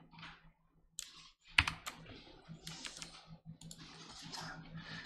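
Computer keyboard keys are pressed in scattered, irregular bursts of clicks and taps, close and fairly quiet, with a low hum underneath.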